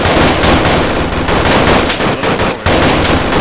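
Dense automatic gunfire in the Arma 3 military game, loud and continuous bursts with brief gaps, close and dominating the whole stretch.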